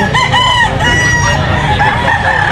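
A Hatch Gray gamefowl stag crows loudly and close up, one long drawn-out call filling the whole stretch.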